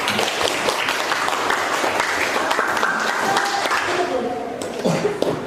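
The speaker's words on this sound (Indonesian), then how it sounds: "kita kasih aplaus buat kelompok 1 atas presentasinya" A group in a class claps for group 1 after its presentation, a steady burst of applause with people talking over it.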